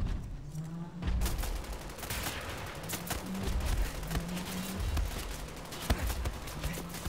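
Gunfire in the video game Wolfenstein: The New Order, played on Xbox Series S, crackles in repeated rapid bursts over a busy, noisy game background, with no talk.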